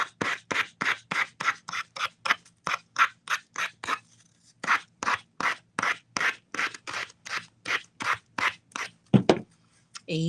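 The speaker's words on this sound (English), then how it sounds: "I think these are dry enough to sand the excess off of." Sandpaper rubs excess off a dried craft piece in quick rhythmic strokes, about two or three rasping scrapes per second, close and steady with one short pause, and no talking.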